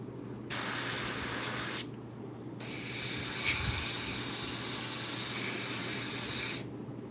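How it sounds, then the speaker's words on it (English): An airbrush sprays paint in bursts while painting a rose, a steady close hiss that starts and stops, running for several seconds at a time with short gaps between. "a dirty airbrush with red in it will ruin your green real quick"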